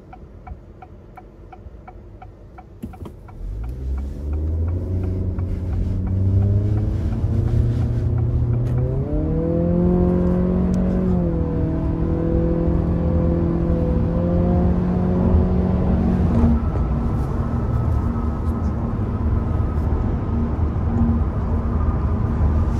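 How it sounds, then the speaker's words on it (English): From inside a 2023 Acura Integra A-Spec with a CVT, the engine hum climbs smoothly in pitch under acceleration, holds a steady drone, then settles into a lower even cruise, loud and continuous with no talking. "Pretty decent acceleration"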